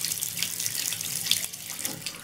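Water gushes steadily and noisily from a household tap after a water main failure, a constant hissing splash with no pauses.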